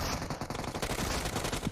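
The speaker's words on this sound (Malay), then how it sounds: "Tembakan dilepaskan." Rapid automatic gunfire in a PUBG Mobile esports grand final match, dense overlapping bursts of shots filling the whole stretch, loud and continuous with no talk.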